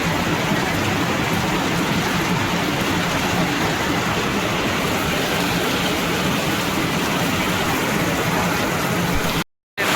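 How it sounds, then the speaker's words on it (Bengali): Heavy rain pours down over a market in a dense, unbroken roar, with a brief cutout just before the end. "জোর বৃষ্টি নেমেছে।"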